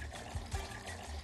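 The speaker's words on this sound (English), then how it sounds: "Now just add 750 ml of water." 750 ml of water poured into a pan of rice coated in buttery cumin oil, a short soft splashing pour lasting about a second with no voices.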